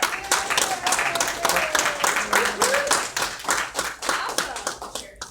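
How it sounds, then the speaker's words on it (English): A crowd at a fursuiting panel claps in a steady, fairly close round of applause, with voices and a few cheers mixed in. "give him a round of I applause"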